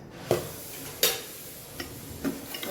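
Thepla cooks in oil on a pan with a soft, low sizzle running throughout. A few distinct taps and clicks from a utensil against the pan sound close by.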